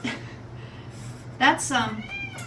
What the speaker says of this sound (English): do you hear the cat?